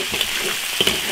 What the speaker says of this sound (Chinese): 小火把豆瓣酱的香味炒出来